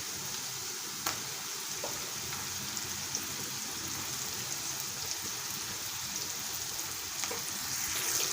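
Ridge gourd pieces fry in a pan while being mixed with salt, giving a continuous bright sizzle with a few spatula scrapes and taps, fairly close and steady.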